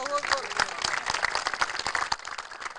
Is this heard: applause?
yes